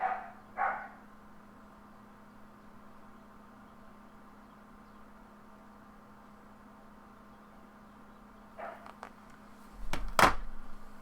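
A dog barks indoors, two quick barks at the start, then a pause over a low steady hum, then a louder close burst of barking near the end.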